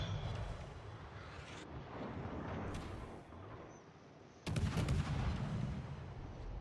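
Udaloi gunboat guns fire volleys in World of Warships, a few deep booming salvos, the last one loud and abrupt, over steady wind and sea noise with no voices.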